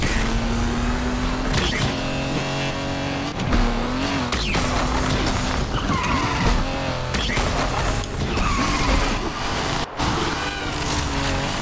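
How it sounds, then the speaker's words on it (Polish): A car drifting in the Need for Speed Unbound video game, tires squealing in long sliding streaks over a steady engine drone and music, loud and close throughout with no talk. "Zobaczmy, jak ten samochód sobie poradzi na drifcie."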